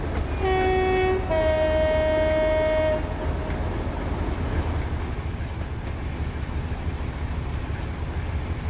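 A Class 58 diesel locomotive horn in Train Simulator sounds two loud sustained two-tone blasts over steady engine and rolling rail noise, then the engine rumble continues alone.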